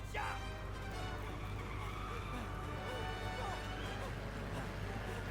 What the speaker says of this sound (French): Et allez, là ça va être course-poursuite en voiture